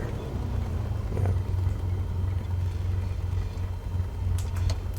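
A small single-engine plane in Microsoft Flight Simulator 2024 holds a steady low engine drone during its run-up, a constant rumble with slight swells and a faint click near the end.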